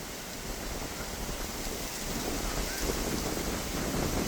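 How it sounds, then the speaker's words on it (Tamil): Strong wind blows over rice paddy fields beside a lake, a loud, steady broadband rush that swells slightly toward the end, with no speech. "பயங்கரமான காற்றடிச்சு கொண்டிருக்கு"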